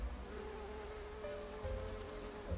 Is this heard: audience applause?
no